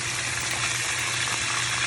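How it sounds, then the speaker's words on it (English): Fish frying in a pot for Jamaican brown stew fish, a steady loud sizzle and hiss of hot oil held at a constant level throughout without pause. "now that we have finished frying off those fish"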